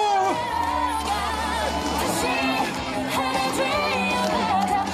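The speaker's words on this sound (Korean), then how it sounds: "여러분, 계속 박수와 함성 부탁드립니다." Dense campaign rally crowd in Sejong, South Korea, roaring and chanting continuously throughout, with cheers and shouts layered over music, loud and close.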